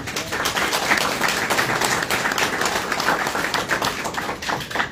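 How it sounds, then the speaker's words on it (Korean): Audience applause at an indoor art-promotion meeting welcoming an arriving guest: loud, close, dense clapping that continues steadily without a break. "박수로 맞아주시기 바랍니다"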